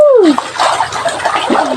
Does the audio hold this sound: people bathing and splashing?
yes